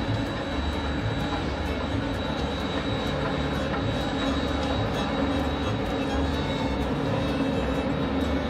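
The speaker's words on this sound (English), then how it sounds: "As the train passes through Keddy, we find ourselves another spot to watch it in action" A Big Boy steam locomotive hauling a train along the Feather River Route near Keddie makes a steady, loud rumble that holds unbroken throughout, with no voices.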